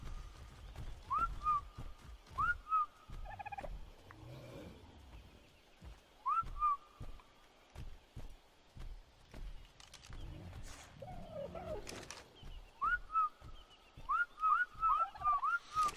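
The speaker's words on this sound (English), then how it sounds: "Can I not whistle attack my target while I'm on the back of that guy?" Repeated short rising whistle calls from Ark: Survival Evolved, played in the Aberration map, come in small bunches of two or three over a busy game background of footsteps, creature noises and thuds.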